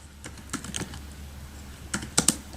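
Close, quiet keystrokes on a computer keyboard as a command is typed, a few scattered taps followed by a quick cluster of sharper clicks near the end.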